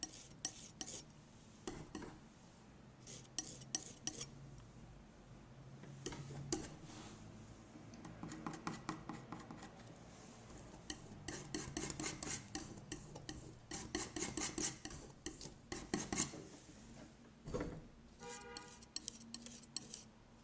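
Red and green paint being mixed with a palette knife, quiet scraping, tapping and rubbing strokes coming in irregular bursts up close, with no talking.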